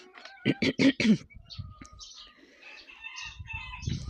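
Roosters crow loudly several times close by, followed by softer clucking and scattered bird sounds in the background.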